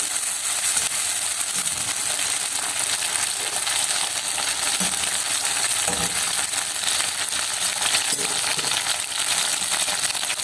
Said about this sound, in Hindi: इसे हम थोड़ा सा फ्राई कर लेंगे कढ़ाई में